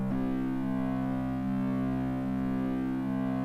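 A sustained synth tone in Native Instruments Massive X runs through the Nonlinear Lab distortion, giving a steady, buzzing, harmonically rich drone that holds at even loudness with no talk.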